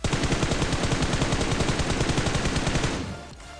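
Rapid automatic gunfire from a PUBG Mobile solo-versus-squad match, a loud, dense burst of evenly spaced shots lasting about three seconds before cutting off and fading into quieter background.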